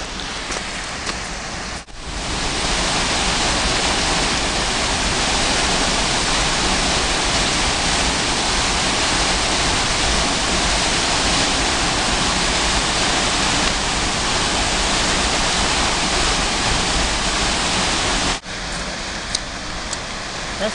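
Water flows and splashes steadily outdoors at a stream or fountain, a dense, loud rushing wash that continues almost unbroken, with two brief dips.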